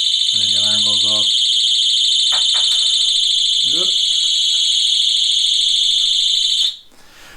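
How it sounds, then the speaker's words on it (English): An Oxford Boss alarm disc lock goes off with a loud, piercing, continuous electronic tone that holds steady for several seconds, then cuts out abruptly. Someone speaks briefly over it early on. "And then the alarm goes off."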